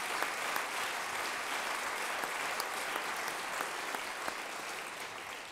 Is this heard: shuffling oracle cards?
no